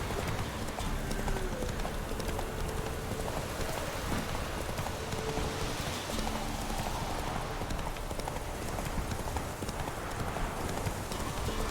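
Horse hooves clip-clop in The Witcher 3, a steady trotting rhythm mixed with rain pattering on the ground, with the ambience dense and continuous throughout.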